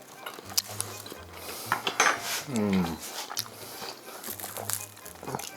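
Bread toasted over a campfire crunches as it is bitten and chewed alongside Soviet-style shashlik. Several crisp, close crunches mix with cutlery and dish clinks, and a brief voice sounds partway through.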